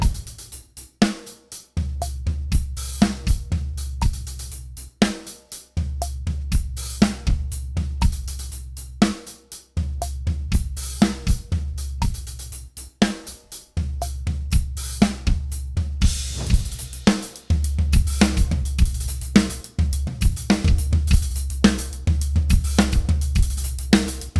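Drum groove with busy hi-hat patterns alternating between two hi-hats, starting with 32nd notes on the main hi-hat, over a steady deep low end, broken by short pauses, repeating in sections.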